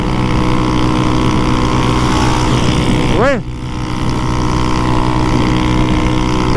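A motorcycle with a leaking, pressurized exhaust drones steadily at a constant pitch on a ride to the beach, with a brief whooshing dip partway through and a voice speaking once.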